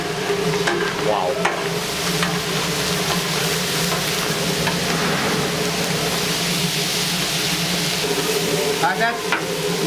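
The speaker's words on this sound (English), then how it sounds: "now just stir-frying that around, sauteing it in the butter" Liver and intestines stir-fry with onions in butter at a small restaurant in the old bazaar of Tabriz, Iran, giving off a loud, constant sizzle with occasional clinks of a utensil in the pan.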